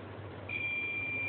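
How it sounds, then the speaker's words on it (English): A smoke sensor's buzzer gives a steady high-pitched electronic beep over a low background hum and keeps going without a break. "when the smoke sensor is get activated, the buzzer is start beeping"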